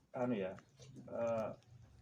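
Two drawn-out, wavering bleats from a goat on a goat-breeding farm, close and fairly loud, separated by a brief pause with low background noise.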